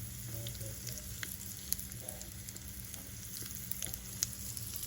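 Cumin seeds, mustard seeds and hing sizzle in hot oil, making a quiet, steady crackle punctuated by a couple of sharp pops, with no voices.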